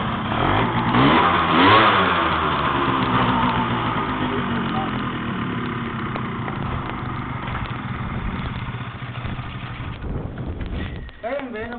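Motorcycle engines revving up and rising in pitch, loudest early on and then fading into a sustained drone, with voices talking over them throughout.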